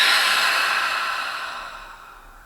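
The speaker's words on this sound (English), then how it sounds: "And breathing out." A deep, slow exhale breathed out close to the microphone, an airy sigh-like rush that gradually fades over about two seconds during a calm guided breathing exercise.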